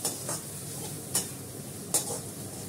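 Fish heads frying in a small amount of oil in a pan, a steady close sizzle broken by a few sharp scraping stirs.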